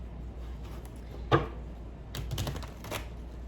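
Tarot cards are shuffled by hand in a quiet room: a few brief, close riffling bursts of paper flicks, one sharper snap among them, with no talking.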